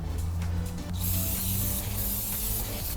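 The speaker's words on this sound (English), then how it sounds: "So the idea is to spray down the braking surface to get rid of it." An aerosol cleaner hisses as it is sprayed onto the brake rotors of a 2014 Jeep Grand Cherokee. The near, steady spray keeps up throughout over a low rumble, and grows brighter and louder after the first second.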